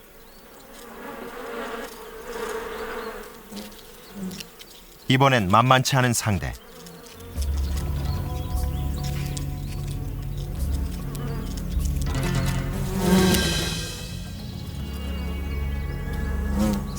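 An Asian giant hornet feeding on oak sap in a forest gives a steady, close insect buzz that swells and holds, with a brief louder burst near the start and a voice speaking over it.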